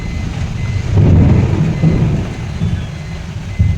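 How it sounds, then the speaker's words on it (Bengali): Thunder rumbles low and heavy through a downpour near Jagulia, swelling loudly for a couple of seconds over a constant wash of hard rain and road noise, with no voices. "আকাশ ডাকছে"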